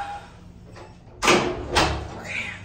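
A hospital room door is pulled shut at close range with two quick knocks or thuds, then a fainter rattle as it settles. A voice is heard briefly nearby.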